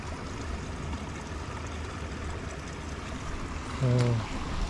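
Hot spring water pours steadily from its source high on a mountain, a continuous close rushing and trickling with a brief voice near the end.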